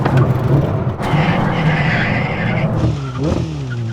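A supercar, either a Koenigsegg or a Ferrari SF90 XX, brakes hard in a stopping-distance test, its engine roaring loudly throughout before the tyres break into a rising squeal near the end.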